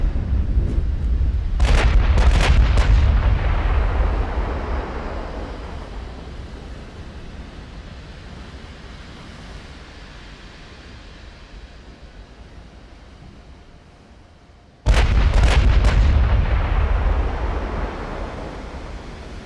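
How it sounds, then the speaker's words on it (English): Naval artillery salvos boom in the warship game Ultimate Admiral: Dreadnoughts, two heavy blasts about thirteen seconds apart, each followed by a long rumbling roar that slowly fades. "Ooh, that's a tight salvo."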